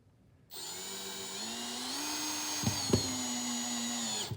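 A power drill whirs steadily as it drives screws into a wooden bench, its motor pitch rising slightly under load with a couple of brief sharp bumps near the end, loud and close with no talking.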